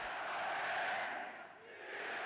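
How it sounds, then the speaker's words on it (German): Massed crowd at Goebbels' Sportpalast rally cheering and roaring in a dense, sustained wall of voices that dips briefly and surges again, distant and slightly muffled in old recording quality. "Jubel für einen aussichtslosen Krieg"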